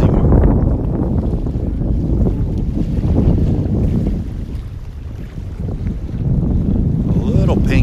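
Strong wind blows on a beach in North Naples, Florida, a loud, continuous roaring buffet across the microphone with surf in the background and a voice speaking faintly beneath it.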